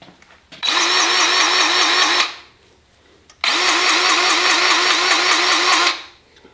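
A handheld grease gun tool used on equipment pumps grease into a fitting in two sustained bursts of steady mechanical whirring, loud and close, separated by a short pause, with no talking.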